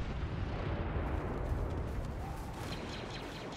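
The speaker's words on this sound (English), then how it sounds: "In goes a grenade." A grenade detonation in Star Wars Battlefront erupts as a loud, broad rumbling blast that fills the whole stretch, a dense wash of noise slowly tapering off with no voices heard.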